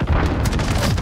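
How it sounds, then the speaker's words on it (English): Heavy, booming grenade blast in the Call of Duty: Modern Warfare video game, loud and close, filling the whole short moment with dense rumbling noise. "Grenade out!"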